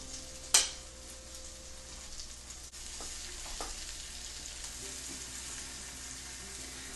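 A Reuben sandwich frying in a pan gives a soft, steady sizzle throughout, with a sharp clink near the start and a few light taps.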